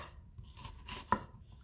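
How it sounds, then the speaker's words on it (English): A knife cuts through an onion on a cutting board, with soft, quiet slicing followed by one crisp tap of the blade against the wood. "I just peel the onion and the same idea as the shallot, horizontal cuts,"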